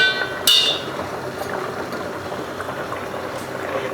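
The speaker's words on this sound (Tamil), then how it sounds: "நல்லா கொதி வரப்போ வந்துங்க நம்ம அப்படியே மீன் வெந்துடும்" A pot of coconut milk fish gravy bubbling and simmering steadily at close range, with a soft continuous burble and a brief sharp clink near the start.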